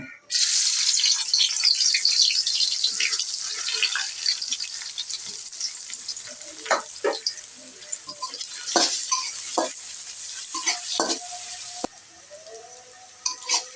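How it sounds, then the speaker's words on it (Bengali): Chopped onion lands in hot oil with a sustained, steady hiss and sizzle. Light stirring and scraping clicks sit on top, close and fairly loud. "তেলটা গরম হয়ে গেছে পেঁয়াজ কুচি দেব"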